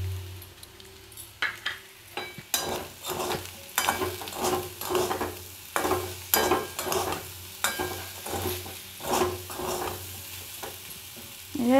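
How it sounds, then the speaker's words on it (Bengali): Potatoes frying in a pan for aloo posto, with a soft sizzle under a run of repeated scraping stir strokes, close and fairly loud, about a dozen in rhythmic succession. "এভাবে ভাজতে ভাজতে আমার আলু প্রায় সেদ্ধ হয়েই এসেছে"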